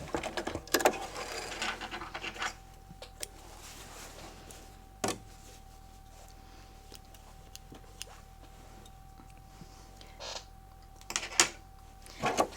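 A sewing machine back stitches along quilt binding with a quiet, steady mechanical whir and light ticking, with a few soft knocks in between and almost no talking.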